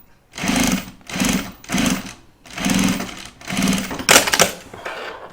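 A sewing machine stitches heavy-duty seams on a project bag in loud bursts, running about five times with short pauses between runs, close and alone.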